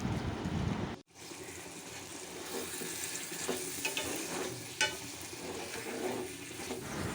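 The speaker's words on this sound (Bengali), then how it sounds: "এখন বেজে রাখা চিকেনগুলো দিয়ে দিব। এখন সব কিছুর সাথে ভালো করে মিশিয়ে নিব।" Fried chicken pieces are stirred with spices in a hot pan for a Chinese-style chicken curry. Steady oil sizzle runs under repeated scraping stirs, with a brief break near the start.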